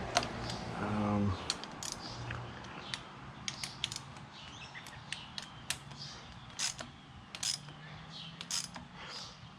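Ratchet clicking in short bursts as bolts on a 2014–2018 Husqvarna FE 250/350 motorcycle are snugged down, close and moderately loud, with a few sharp metallic clicks scattered across a quiet workshop background.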